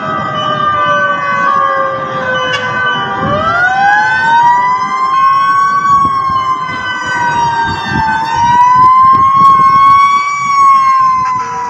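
A fire truck siren wails at a fire in Ilaya, Divisoria, Tondo, Manila. The loud, close siren sweeps up and down in long rising and falling tones that overlap one another, over street noise, with no speech.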